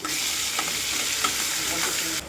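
Garlic hits a pan of onions already fried deep brown for a chicken curry, giving a steady, close sizzle with a few soft stirring scrapes and no talk.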